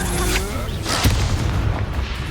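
Confringo fire spell from Hogwarts Legacy bursting amid combat, a heavy booming blast with a rumbling low end over continuous battle noise and effects.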